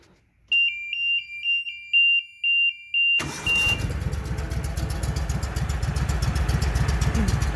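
A Walker mower engine that has been backfiring through the carburetor runs at a lower idle, a steady close rumbling chug that follows a few short electronic beeps.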